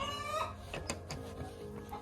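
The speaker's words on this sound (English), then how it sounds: "Fought off the broody hens." Broody hens cluck and murmur in low, uneven bursts close by in a full chicken coop, with a few sharper clucks standing out against a steady background hum.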